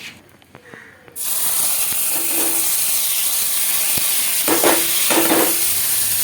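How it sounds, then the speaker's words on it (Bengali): Whole spices for a Bengali tempering fry in hot oil, a steady close hiss and sizzle beginning after a quiet second, with a few soft clinks of a utensil. "এক মিনিট একটু ফোড়নটা ভাজা হওয়ার জন্য ওয়েট করবো দেখো বন্ধুরা ফোড়নটা ভাজা হয়ে গেছে"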